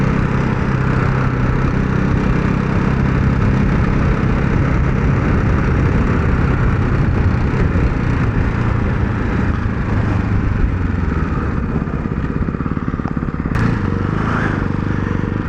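A 2024 Ducati Hypermotard 698 Mono single-cylinder motorcycle is ridden, its engine droning steadily and loudly under rushing wind noise.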